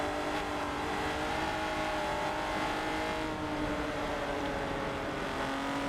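Race cars in a Clio V6 Cup racing game at Watkins roar with a continuous, dense engine note that holds steady and loud the whole time, with no pauses or talking.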